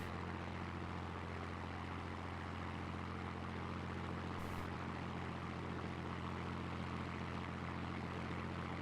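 An aircraft engine idles during a video game dogfight, giving a steady, even propeller drone that hums on unchanged throughout, with a short click midway.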